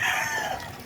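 A rooster crows loudly and close, with hen clucking mixed in, filling the short moment in a farmyard where broodcocks and hens are being prepared for breeding.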